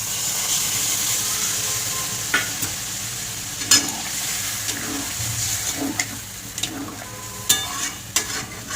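Water poured into a sizzling pan of vegetarian curry being cooked down, a steady frying hiss with scattered sharp pops and scraping stirs, close and fairly loud, no voices.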